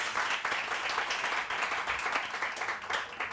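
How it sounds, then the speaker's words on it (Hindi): Studio audience applause on a Pakistani morning TV show, a steady dense patter of many hands clapping continuously at moderate loudness without a break. "बहुत सारी तालियां होनी चाहिए।"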